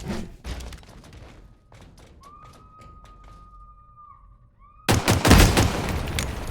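In Halo Infinite, a few scattered gunshot taps are followed by a sudden loud, booming blast as a fusion coil is shot and explodes, its roar lingering to the end.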